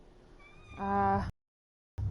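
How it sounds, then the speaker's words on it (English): A cat meows once, loud and close, in the Dragon Age: Inquisition video game, a single tonal, rising meow lasting about half a second before the sound cuts to silence, with no speech over it. "Yes, Cat. We know you're here."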